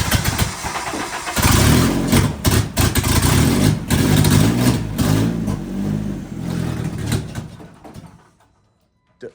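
A 2.0 5R race car engine cranks, catches and revs loudly and close up in uneven bursts for about eight seconds, then cuts out and leaves near silence.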